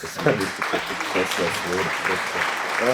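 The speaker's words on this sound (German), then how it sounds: "Applaus" Sustained clapping from a crowd at a German rap event fills the whole stretch, steady and fairly loud, with voices and cheering mixed in underneath.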